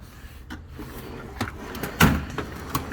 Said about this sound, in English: It's my electrical jump drawer.